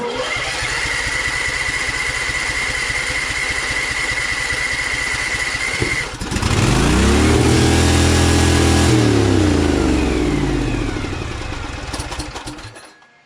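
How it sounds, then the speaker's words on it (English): A Little Wonder hedge trimmer with a Briggs Vanguard engine runs loud and steady, then surges around six seconds to a much higher, climbing runaway RPM with the throttle out of control, before cutting off and winding down at the end. "I shut it off immediately because you saw how high the RPMs were, like the throttle is completely out of control."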